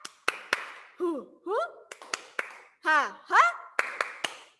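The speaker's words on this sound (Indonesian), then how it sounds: "Tepuk semangat." Kindergarten children doing a rhythmic spirit clap in class, sharp claps in patterned bursts alternating with chanted voices, close and lively, with a short laugh.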